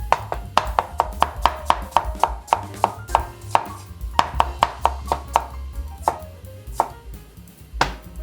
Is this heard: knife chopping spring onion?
yes